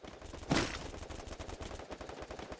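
Gunfire in the Free Fire video game: a sharp shot stands out near the start, followed by rapid, evenly spaced automatic fire that continues to the end, with no talk over it.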